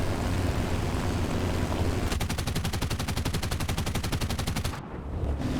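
Aircraft gun pods fire in War Thunder as one fast, even stream of shots lasting under three seconds over a loud engine drone, then cut off sharply.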